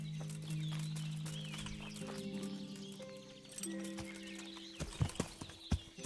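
Horse hooves clip-clop in the video game Kingdom Come: Deliverance, sounding under steady game music with tonal notes. A few sharper, louder hoof strikes stand out near the end.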